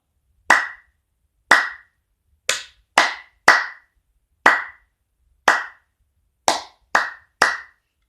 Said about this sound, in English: So I'm going to clap it now without the tars.